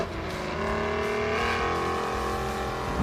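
A restored vintage tractor's engine runs close by, a loud, continuous mechanical drone with a slight rise in revs and no talk over it.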